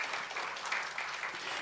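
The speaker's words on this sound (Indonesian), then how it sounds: "Tepuk tangan buat Tuhan saudara." A church congregation applauds during a Sunday service, a continuous wash of many hands clapping at moderate level for over a second, heard alone without speech.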